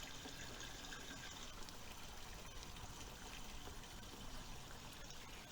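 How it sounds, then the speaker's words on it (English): Water trickles back into a garden pond in a steady, faint, continuous wash with no other sounds. "That's the flow back into the pond."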